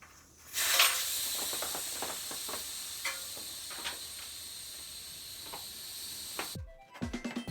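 Air hisses out through the valve of a bike tire on a Mongoose Dolomite ALX, a steady close hiss under soft handling clicks and knocks, followed by a few sharp taps at the end.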